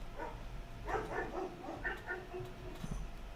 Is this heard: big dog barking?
yes